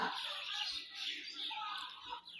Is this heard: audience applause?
no